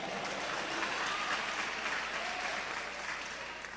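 Congregation applauding during a church service, a continuous, fairly quiet, even patter of clapping that fades slightly toward the end.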